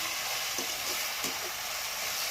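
Ingredients for a Chhattisgarhi home-style phatka dish fry lightly in a pan, filling the space with a loud, even, dense sizzle and a couple of brief crackling surges.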